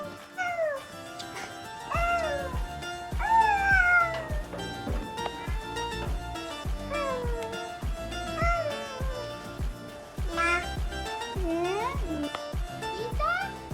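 A cat meows again and again, drawn-out rising and falling cries close by, with voices and other background sound underneath.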